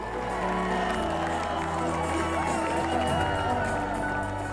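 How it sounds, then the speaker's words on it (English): A Galway crowd cheers and whoops as the Volvo Ocean Race yacht Sanya arrives in 2011-12. The cheering is dense and continuous, with a voice talking over it throughout. "the Galway crowd had stuck around to cheer her in"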